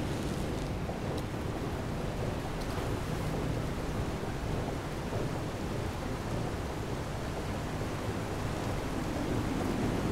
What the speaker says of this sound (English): Hearing, like, the rain from a storm hit the window, and, like, hearing the thunder go off in the background